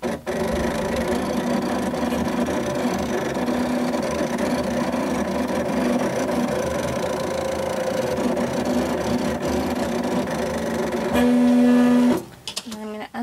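A Silhouette Portrait cutting machine runs a cut, giving a steady, close motor hum with a whirring tone for about twelve seconds before it stops abruptly, followed by a few clicks.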